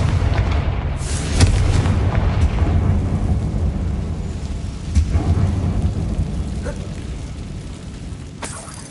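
A Confringo spell blast going off in Hogwarts Legacy inside an abandoned mine, a booming rumbling explosion with a sharp crack followed by long rolling low noise that slowly fades.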